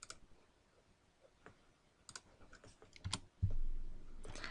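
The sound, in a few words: typing UCS command on a computer keyboard in AutoCAD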